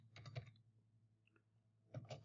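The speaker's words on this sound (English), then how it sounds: "I'm typing this in here because I want you to see the formula" Quick bursts of typing on a computer keyboard, faint clustered clicks near the start and again at the end with a quiet pause between.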